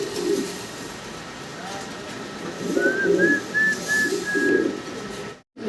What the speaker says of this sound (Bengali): আর খুব চঞ্চল কবুতরগুলা